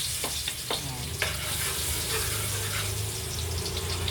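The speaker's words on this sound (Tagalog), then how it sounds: "Ginigisa-gisa." Pancit ingredients sauté in a hot pan, a steady sizzle and frying hiss running throughout with a few sharp stirring scrapes near the start, close and continuous with no talking.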